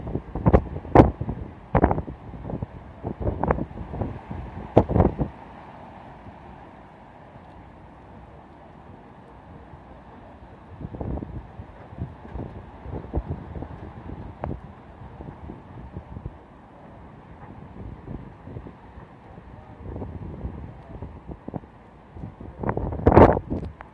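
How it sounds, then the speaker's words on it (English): Hurricane Irma's winds in Fort Lauderdale, Florida make a steady low whirring roar with occasional louder gusts and thumps near the start and end. No one speaks. "That's the hurricane winds."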